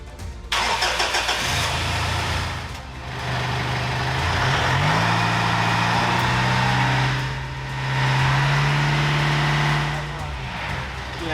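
Challenger 4WD engine cranks and catches, then settles into a steady running idle with slight rises in revs, heard close and loud with no talk.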